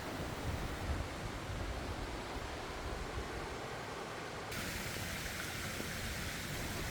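Mountain valley stream in a spring forest flowing steadily, a dense continuous rush of water that stays even and fairly loud throughout with no voices.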